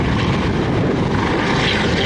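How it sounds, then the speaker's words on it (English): A helicopter hovers at a military base open house airshow, its rotor and engine making a loud, steady, broadband drone with a faint rhythmic chop that holds constant throughout, with no talk. "trying to hold it into a hover"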